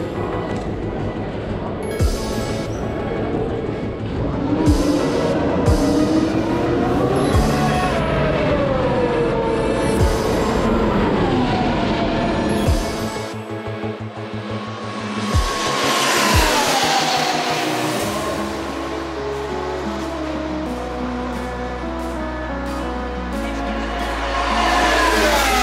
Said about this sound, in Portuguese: Intenso está a ser também agora o trânsito para sair daqui, como vocês podem ver.